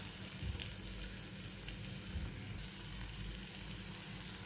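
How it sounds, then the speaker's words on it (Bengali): Spice paste of cashew paste with ginger-garlic paste being sautéed in a pan over a low gas flame, giving a steady soft sizzle throughout with faint stirring scrapes, no voices. "গ্যাসের আঁচটা কম করে রেখে মশলাটাকে খুব ভালো করে কষিয়ে নেব"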